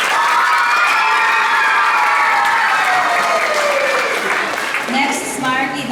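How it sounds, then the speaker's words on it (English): Summer camp audience of children and adults clapping and cheering for their coach, loud and close, with shouts and whoops riding over dense applause and voices calling out near the end. "We will clap for Coach K."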